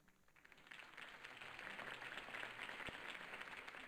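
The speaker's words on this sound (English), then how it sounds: "could have heard that applause" Applause from a crowd at a campaign speech in Batman: The Telltale Series swells and holds steady, a dense wash of clapping at moderate distance, fairly quiet overall.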